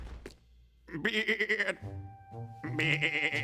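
A flock of sheep bleating in a Skylanders Academy cartoon scene: several loud, close, wavering bleats overlap, with short gaps and a low background rumble.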